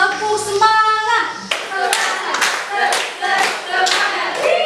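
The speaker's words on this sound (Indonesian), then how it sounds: "Oke, kita tepuk semangat dulu." Classroom of students performing a rhythmic spirit clap in unison, a run of sharp synchronized claps following a brief spoken or sung phrase, close and loud.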